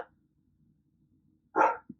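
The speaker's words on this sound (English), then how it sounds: "My neighbor's dog is barking incessantly again." A neighbor's dog gives a single loud bark near the end, followed by a brief softer yelp, after a long near-silent stretch.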